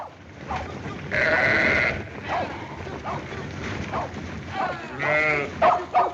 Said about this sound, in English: Come on, get them sheep moving.